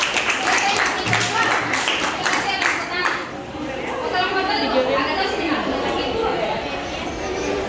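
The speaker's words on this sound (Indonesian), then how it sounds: "Oke, tepuk tangan dulu untuk orang belajar." Classroom applause from students during a lesson, a burst of clapping mixed with lively chatter that fades into ongoing talk and murmuring.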